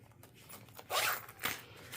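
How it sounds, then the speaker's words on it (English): Zippers being threaded onto fabric, two quick rasping strokes close by, with quiet rustling of fabric around them. "So I'm going to go ahead and thread my zippers really fast."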